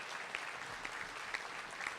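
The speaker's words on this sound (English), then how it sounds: "so a big round of applause" Steady applause from an audience at a breakfast event, a continuous wash of clapping with a few sharper claps standing out, moderately loud and fairly distant, with no voices on top.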